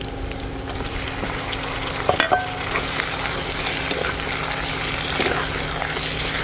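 Puffer fish frying in hot oil with garlic, onion, ginger and chili, a steady close sizzle and bubbling with a few brief clinks of stirring partway through.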